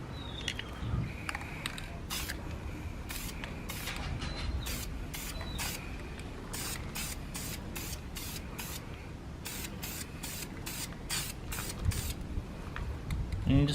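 Spray paint can applying blue paint in light coats to a car's rear brake calipers: a steady close hiss with rapid on-off bursts of spraying through the second half.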